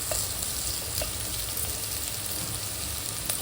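Mashed potatoes frying in a pan while making breakfast, giving a steady, close sizzle with soft crackles throughout and a few faint clinks, with no talking.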